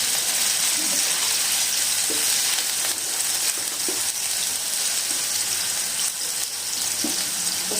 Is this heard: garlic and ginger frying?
yes